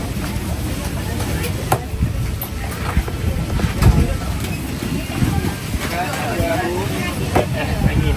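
Strong gusts of wind buffet the microphone with low rumbling roars at a Ramadan bazaar in Bandar Laguna Merbok, Kedah, Malaysia, while people chat nearby and occasional clatters cut through.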